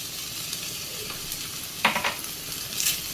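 Chicken fried rice with a splash of vinegar being stirred in a hot pan, soft continuous sizzle with a few louder scraping strokes near the end, close and fairly quiet.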